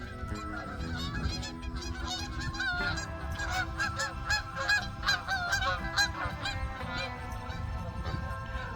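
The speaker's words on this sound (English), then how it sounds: "Some geese flying over." A flock of geese honks repeatedly and loudly, many overlapping calls in a busy, continuous chorus passing overhead.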